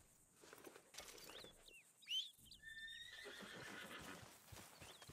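A horse in Red Dead Redemption 2 gives a sharp, quavering neigh amid soft clip-clop hoofsteps and quiet outdoor ambience.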